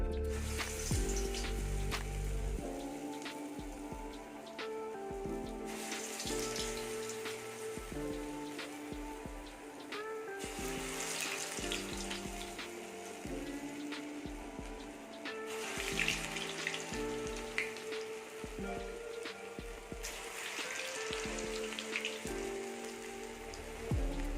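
Medu vada, urad dal fritters, sizzle in hot oil over medium heat, a dense, continuous crackle close by that swells and eases in waves as batter is added, with no talking.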